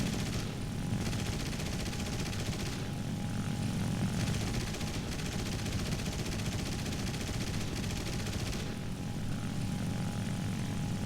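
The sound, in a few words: aircraft machine gun bursts in War Thunder video game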